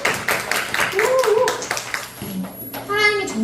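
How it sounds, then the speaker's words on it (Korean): Children clap in cheering applause during a Sunday children's worship service at a Korean church in Incheon, a run of quick, close claps mixed with kids' voices, followed by an adult talking. "우리 찬영이를 와. 응원하는 박수."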